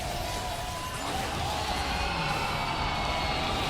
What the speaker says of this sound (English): Elation from the crowd.